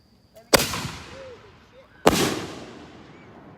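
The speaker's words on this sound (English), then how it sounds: "First shell we have is one of our Neon Fusion shells." Two loud aerial firework shell bursts from a Neon Fusion shell by Red Apple Fireworks at an outdoor display, each a sharp boom about a second and a half apart followed by a long crackling, rumbling decay.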